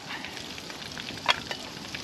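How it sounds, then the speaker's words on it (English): Liver and onion sizzle steadily in a pan on a Trangia camping stove outdoors in winter, a close, soft frying hiss with one brief louder crackle; no one speaks. "I'll probably bring you back when it's sizzling."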